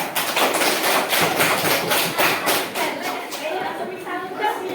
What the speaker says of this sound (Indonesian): Tepuk tangan untuk Bapak 3.